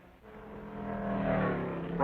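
Corvette race cars speed along a race track, their engine roar swelling as they approach and hold a hard, high-revving note for about two seconds.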